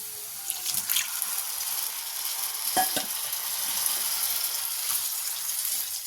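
Cooked beef being stirred into a chili-powder masala in hot oil for beef masala, a steady close sizzle with scraping stir strokes and a few clattering spoon knocks near the middle.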